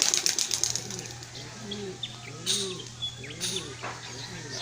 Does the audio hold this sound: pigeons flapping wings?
yes